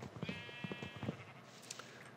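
Sheep bleat in a crafting survival video game, several short wavering bleats close by and fairly loud, with a quieter call trailing after, no talk over them.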